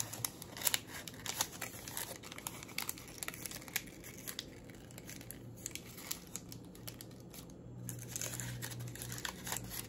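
Paper cupcake liner being folded in half, soft crinkling and crumpling rustles in quick irregular bursts, close and fairly quiet throughout.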